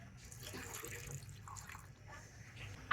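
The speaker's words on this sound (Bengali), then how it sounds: "আর এর মধ্যে অল্প একটু জল দিয়ে দিচ্ছি।" A little water is poured into ground jackfruit seeds in a mixer jar, a soft faint trickle and splash heard close under light background noise.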